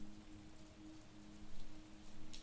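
Steady rain falls at night, a soft continuous patter with gentle swells in intensity and no voices.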